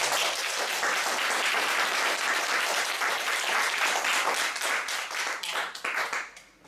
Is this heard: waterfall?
no